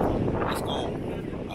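Low rumbling wind buffeting the microphone, a steady close-up roar with no clear speech.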